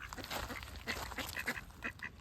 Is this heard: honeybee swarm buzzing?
no